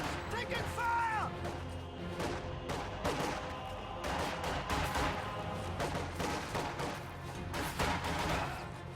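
Scattered rifle fire and explosions crackle through a real-time strategy match as conscripts gun down advancing grenadiers at medium range, heard fairly faint beneath constant energetic commentary.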